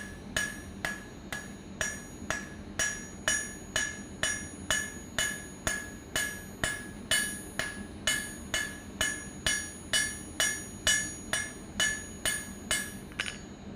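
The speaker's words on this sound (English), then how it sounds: "I'm going to take it to the anvil, get a couple taps with the flat side of the hammer" Flat side of a hammer tapping hot steel on an anvil while forging a leaf hook: bright, evenly spaced metallic strikes, about two per second, close and clear with no voices.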